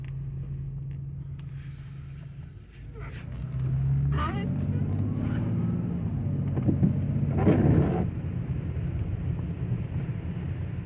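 BMW E38 sedan driving and accelerating, a steady low engine and road rumble rising in intensity midway, with wind noise and a person talking over it.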